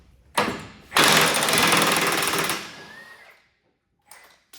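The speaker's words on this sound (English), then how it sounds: "Got the proper wrench for the job here." A wrench working loose a part on a 10 ft tall recovery tractor: a short clank, then a loud, sustained rattling metallic grind for over a second, fading out, followed by a brief faint clatter.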